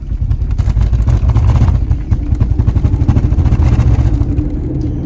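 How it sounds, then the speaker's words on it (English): A Dodge Magnum with a worn driveshaft center bearing support clunks repeatedly while driving, dull knocks under a loud, steady road and engine rumble heard from inside the car. "You hear the clunking in this area, guys. It's clunking super bad."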